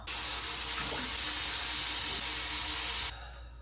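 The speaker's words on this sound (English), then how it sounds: "I don't know how people do like wash their face without getting soaked with water." Water runs steadily from a bathroom tap during face washing, a loud, close, continuous hiss that lasts about three seconds and then cuts off abruptly.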